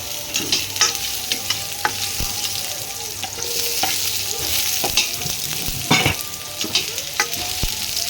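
Beef papaitan sizzles in a pan and is stirred, with a busy frying hiss and repeated scraping and clattering strokes of the spoon throughout.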